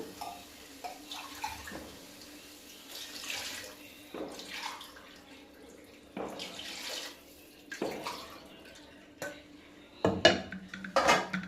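Water splashes and pours into a cooking pot for spinach pulao, with intermittent clinks of utensils and pot handling between pours, close and moderately loud.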